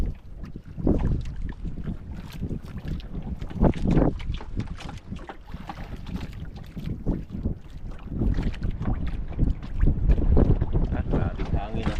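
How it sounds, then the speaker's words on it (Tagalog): Strong wind buffets a fishing boat at sea, roaring and gusting unevenly against the microphone, with occasional voices speaking under the noise. "Grabe hangin ah."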